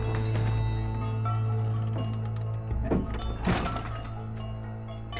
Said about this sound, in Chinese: 门关上。